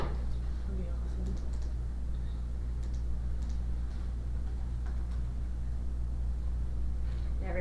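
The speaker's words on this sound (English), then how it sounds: "Everybody can see if I'm typing incorrectly." Someone types on a computer keyboard during a school board facilities work session, with faint, scattered key clicks over a constant low hum of the room.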